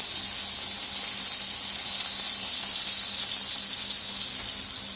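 Onions fry with chilies in a pan, giving a steady, loud, even sizzle and hiss that stays constant throughout with no break.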